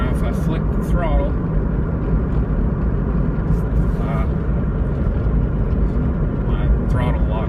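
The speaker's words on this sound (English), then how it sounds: "Now if I flick the throttle," A CVT vehicle's engine runs with the throttle flicked, producing a loud, steady, close-up drone of low rumble and a brief voice under it.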